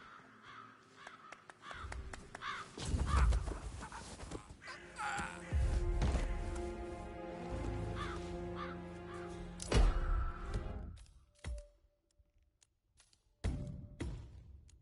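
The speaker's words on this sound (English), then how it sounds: "It's the birds. They're making a racket, droppings everywhere." Crows caw loudly over and over in the Hitman game, harsh calls overlapping in a noisy racket with occasional thuds, thinning out to sparse calls near the end.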